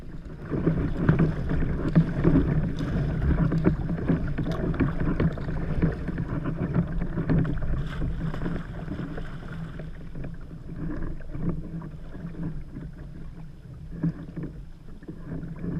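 Kayak paddling across Sydney Harbour toward Shark Island from Rose Bay, with rhythmic paddle splashes and water lapping against the hull, steady and close, backed by light wind buffeting on the microphone.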